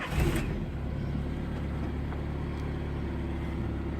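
A car with a 5-speed manual gearbox cranks and fires up with a short burst, then settles into a steady, close engine idle with a low, even rumble.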